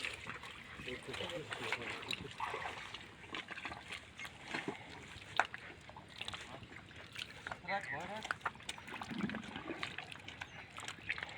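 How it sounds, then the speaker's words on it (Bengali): A boat is pushed off a ghat into Sundarbans river water at the start of a honey-collecting trip. Sloshing and splashing run steadily close by, with voices murmuring faintly underneath. "আর এখন আমাদের ঘাট থেকে আমাদের নৌকাটা নামানো হচ্ছে।"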